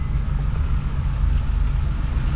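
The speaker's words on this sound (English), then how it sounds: "there's a train moving on the tracks over there" Heavy train engines rumble on nearby railroad tracks beside a cemetery, a steady low-pitched drone filling the whole stretch with no talking.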